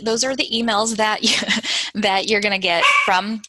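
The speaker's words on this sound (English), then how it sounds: "I apologize for my little dog in the background." A small dog barks and yips in the background during a training session, the sharp bursts mixed in with steady close speech from a presenter.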